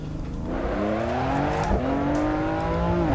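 A BMW M4 in the racing game Assetto Corsa drifting on road tyres, its engine droning and rising in pitch with a brief dip as it shifts, over continuous tyre noise, loud and steady with no talking.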